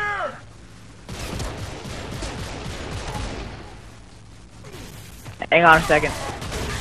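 Video game gunfire in Horde mode comes as dense rapid bursts over a few seconds, then stops, with someone speaking briefly before and after the shooting.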